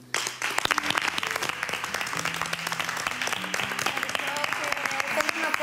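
Housemates in a reality-show house applaud together, a dense, steady clapping that runs for several seconds, with voices murmuring underneath.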